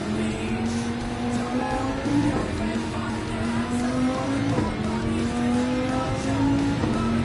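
Racing car engine in a Nürburgring video game, revving steadily at high pitch and rising through the gears with tyre squeal, loud and continuous throughout.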